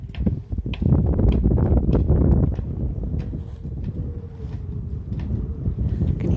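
Strong wind gusting by the water near a moored sailboat, a continuous broad roar with rushing buffets and a faint thin whistle running through it, loud and close throughout with no talking.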